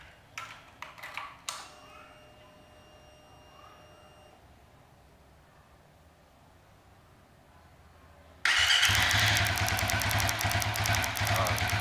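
A bore-up Suzuki FU 150 fuel-injected motorcycle with a stock ECU and Ninja Mono injector. A few light clicks and taps come first, then after a quiet stretch the engine fires and settles into a loud, steady, close-up running rumble.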